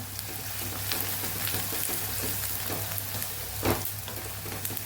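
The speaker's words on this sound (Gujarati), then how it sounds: "ડુંગળી સતળાઈને એકદમ સોફ્ટ થઈ જાય ત્યાં સુધી આપણે આને સાતળવાનો" The white parts of green onions sauté in oil in a pan for a Kathiyawadi green onion dish, giving a steady close sizzle and crackle with a brief stirring scrape near the end.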